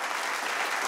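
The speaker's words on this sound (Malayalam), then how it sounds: "അതിനൊരു വലിയ കൈയടി കൊടുക്കാൻ" A studio audience at a television comedy show bursts into dense, continuous clapping for a brief moment.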